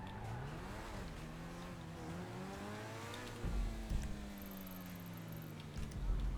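A car in a video game accelerates and shifts through gears, its engine tone climbing and dropping in repeated sweeps, with brief tire skids, heard steadily and fairly close without talk.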